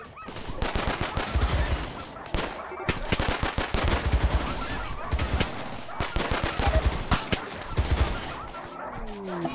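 Rapid bursts of turret gunfire from a colony-building game, dense overlapping shots rattling almost continuously at close range, with no voices over them.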